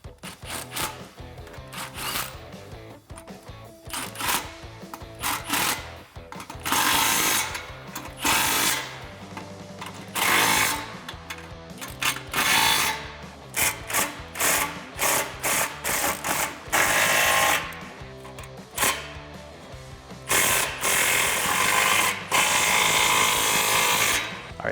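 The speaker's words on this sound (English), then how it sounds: "grab your 15mm deep socket, tighten down the factory clamps" On a 2018-2019 Mustang GT, a 15mm deep socket tightens the factory exhaust clamps. Close, loud bursts of rapid mechanical whirring and clatter repeat with short pauses, and no one speaks.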